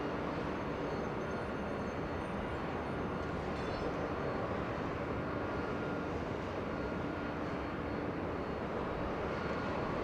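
SkyWest jet airliner arriving at Los Angeles International Airport from San Francisco, a steady, moderately distant engine roar and rumble running unbroken through the whole stretch.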